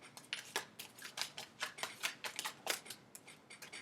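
Tarot cards are shuffled by hand in a quick run of soft, crisp riffling snaps, close and quiet, with a steady rhythm of about four per second.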